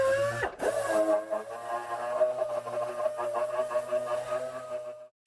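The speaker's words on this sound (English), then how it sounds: "Now I'll switch to 180 grit on an orbital sander." Orbital sander fitted with 180 grit paper running steadily over metal welds, a continuous close whirring drone with a strong steady tone, a brief bump near the start and cutting off at the end.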